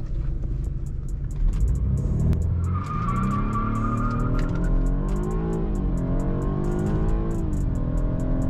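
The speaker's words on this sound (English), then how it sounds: "I can launch this thing every time and spin them out." A BMW F30 sedan launches hard at night with its tires spinning, a loud rumbling engine climbing in pitch under a squealing tire screech, close up from inside the car.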